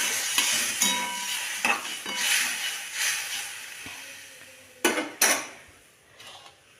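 Potatoes in mustard oil are stirred in a pan for an egg and potato curry, a soft sizzle broken by several sharp spoon scrapes and knocks against the metal.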